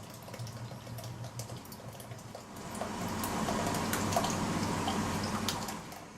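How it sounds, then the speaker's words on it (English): A mixture of cheese curd and whey pours through cheesecloth, starting as soft dripping and swelling into a steady gushing trickle of liquid, close and without talking. "We do this by simply pouring the entire mixture through a cheesecloth."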